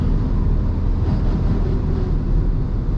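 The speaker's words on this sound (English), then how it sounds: "clearly hear the noise of the truck over there, right?" A nearby truck's low rumble carries into a closed car cabin as a steady, loud, muffled drone with no talk.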